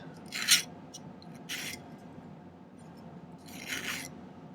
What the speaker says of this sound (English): I'm just filing the bottom of the sheet